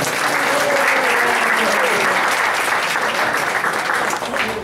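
Sustained round of applause from an audience at a memorial gathering honoring a man's life and service, dense and steady throughout, thinning slightly near the end.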